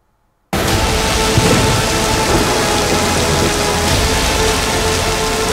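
Heavy rain in a windstorm in Karnataka begins abruptly after a brief silence. It then pours as a loud, dense, unbroken roar of rain close by, with no voices.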